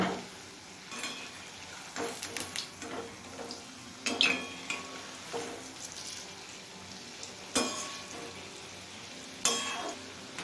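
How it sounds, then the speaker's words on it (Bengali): Aamsotto (dried mango pulp) fritters fry in a pan over a low gas flame, with a steady sizzle and intermittent scraping stirs and clinks of a utensil against the pan. "এবার বড়াগুলো একটু নাড়াচাড়া করে নেব"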